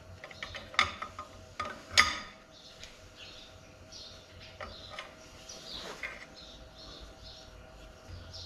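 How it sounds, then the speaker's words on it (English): A wrench turning a nut to draw up a cylinder sleeve on a 1952 Case DC tractor, giving repeated metallic ratcheting clicks, sharpest early on, then softer intermittent clicks in a quiet shop with faint birdsong. "And then I turn this nut with a wrench and it will hopefully pull the sleeve up."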